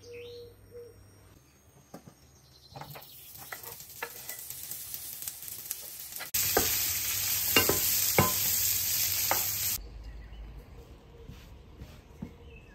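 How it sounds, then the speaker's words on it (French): Ventrèche pork belly frying over medium heat in a hot pan, a quiet steady sizzle with scattered crackles and pops, swelling louder for a few seconds mid-way before settling back to a faint fry. "ensuite vous la passez sur un feu moyen et vous mettez votre ventrèche dedans"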